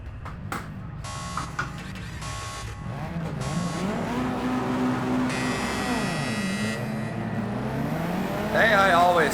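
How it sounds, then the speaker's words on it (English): A Mitsubishi Evo IX races in Project Cars 2 on the Nordschleife, its engine revving and rising through gears at moderate loudness, with brief beeping tones, a short burst of tire noise near the end and a voice talking over it. "I'm driving the Mitsubishi Evo IX"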